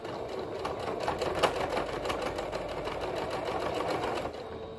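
A sewing machine stitches the folded hem of a mauve and cheetah print toddler hoodie over a serged seam, a steady, close, continuous mechanical whirr with fine rhythmic ticking that eases off at the end.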